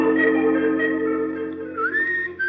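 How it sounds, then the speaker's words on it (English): Man whistling a lilting, wavering tune in a radio drama, clear and close, continuous with brief pauses and rising slides near the end. "Potters was whistling when I gave him her tray to take up."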